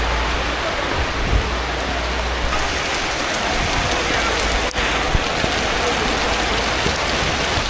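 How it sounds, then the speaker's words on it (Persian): Heavy tropical rain pouring down in Bali, a dense continuous roar of falling water that fills the scene at a steady loud level, with no clear voices and only faint sporadic drop impacts. "نگاه کن چه بارونی گرفت همین الان."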